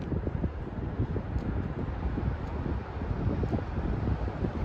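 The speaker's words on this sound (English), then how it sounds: "I'm in a windy area right now, in a wind tunnel here." Wind buffets the microphone in a steady, rumbling roar with gusty low thumps throughout and no voices.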